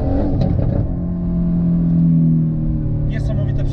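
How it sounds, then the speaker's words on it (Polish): A Mercedes-AMG GT-R, tuned to 765 horsepower, holds a loud, steady engine drone on the road, with the tone rising slightly midway. Brief voices sound over it near the start and end. "Dźwięk silnika oddaje całe piękno tej bestii."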